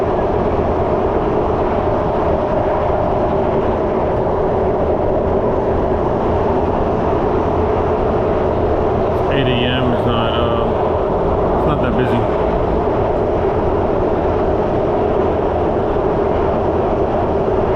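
A Singapore MRT metro train carriage gives a steady loud rumble and whine of running wheels and motors throughout, with a brief electronic chime or announcement tone partway through.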